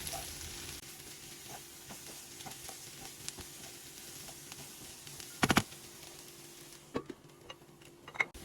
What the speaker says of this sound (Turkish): Bunu şöyle bir kavurayım.